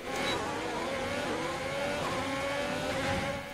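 Race car engines in the F1 2020 video game scream down a straight, a loud sustained whine climbing steadily in pitch as the car accelerates, close and continuous with no talk.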